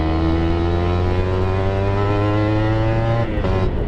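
A Suzuki Satria 120R motorcycle with an aftermarket exhaust revs up close and loud, its pitch climbing steadily as it accelerates, then drops off sharply near the end.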